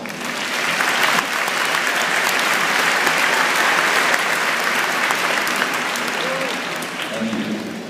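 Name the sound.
audience applause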